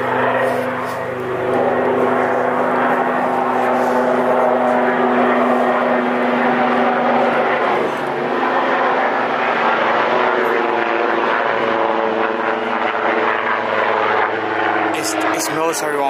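A military Huey helicopter drones steadily overhead, its engine and rotor roar constant and fairly loud throughout, with voices talking beneath it.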